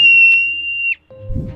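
A marmot or singing mouse gives a long, steady high-pitched whistle that cuts off abruptly, then a shorter lower whistle over a brief rumbling noise.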